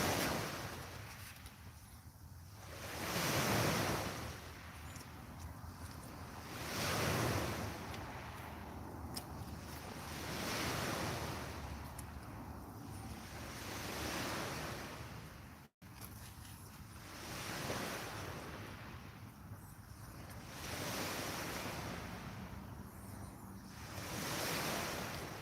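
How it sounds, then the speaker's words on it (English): Ocean waves break on the shore at a sea fishing spot, rolling surges every few seconds with wind buffeting the microphone between them, no talking. "Wow, listen to them waves"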